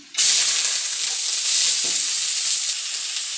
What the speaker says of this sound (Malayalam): ഓക്കെ, ചീര വാരിയിടാമേ.